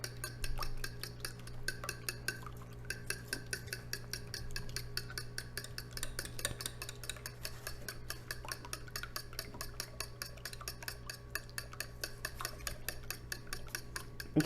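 Scrambled eggs for a Christmas breakfast casserole being stirred in a bowl, a steady run of fast, light utensil ticks and scrapes held close and continuous for the whole stretch, with no talking.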